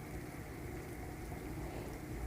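Steady rain falls during a thunderstorm, a quiet, continuous hiss with low rumbling underneath and no distinct thunderclap.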